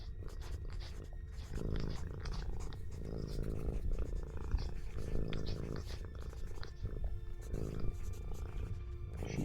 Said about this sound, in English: Cat cameo.